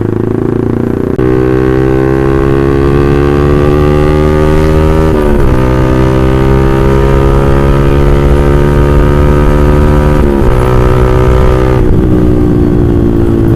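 A Yamaha All New Vixion motorcycle engine drones loudly and steadily while riding, its pitch climbing through gears with brief dips at shifts, no talk over it.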